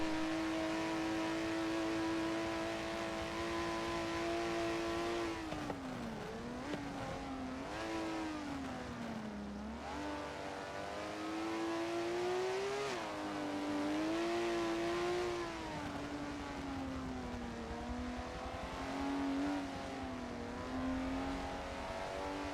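Race cars in a Forza 7 video game race, a continuous loud engine drone that rises and falls as the car revs and shifts, with no talk over it.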